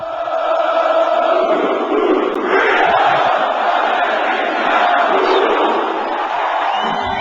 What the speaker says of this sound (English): His vision of financial freedom moves the crowd to a chant we hear over and over again.